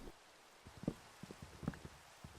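Rain falling in the Minecraft video game world, a faint, steady wash of patter with a few soft, scattered drops standing out.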